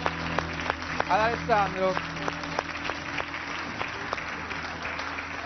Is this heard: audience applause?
yes